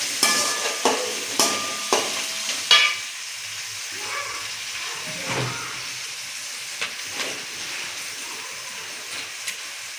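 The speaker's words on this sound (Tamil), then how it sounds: "வெங்காயம் நல்லா வணங்கி வரட்டும் ப்ரௌனிஷாக." Onions fry in a pan until brownish, a soft, continuous sizzle and hiss. A few sharp utensil clinks come in the first three seconds, then a sparse tap or two.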